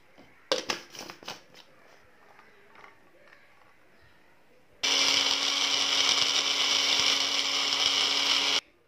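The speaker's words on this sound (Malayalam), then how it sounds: "ഇനി ഇത് നല്ല സ്മൂത്തായിട്ടൊന്ന് ബ്ലെൻഡ് ചെയ്തെടുക്കണം." A mixer grinder blends washed garlic in its jar, starting with a few loud knocks and rattles before the motor kicks in, then running as a steady, loud high-pitched whir for about four seconds before cutting off.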